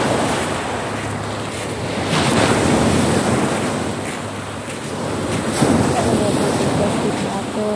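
Sea waves washing in steadily under strong, gusting wind buffeting the microphone on open water where plastic bottles drift, a continuous loud roar that swells and eases.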